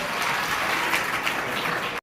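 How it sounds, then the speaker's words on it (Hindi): Applause from the audience at a Republic Day program at Fatima Nagar Junior High School in Birabhati, a steady wash of clapping at moderate volume that cuts off abruptly at the end. "आइए जोरदार तालियों का धन्यवाद देंगे"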